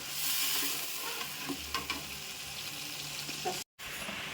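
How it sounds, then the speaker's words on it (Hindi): Spice masala for fish roasts in a pan in a village kitchen, a continuous low sizzle with scattered stirring clicks and scrapes, briefly cut to silence near the end. "अब ये मसाला जो है भुना जा रहा है अच्छे से"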